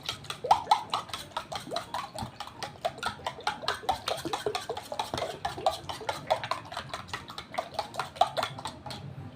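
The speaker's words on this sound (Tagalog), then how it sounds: "So, haluin na natin guys." A utensil stirs an egg and dried fish dish with sweet potato tops in a pan, scraping and clinking against the metal in quick irregular strokes, close and clear with no talking.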